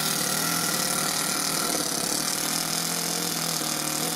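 Starter motor spinning up a Toyan FS S100G engine fitted in an RC car, a steady close whirring drone held for several seconds without a break.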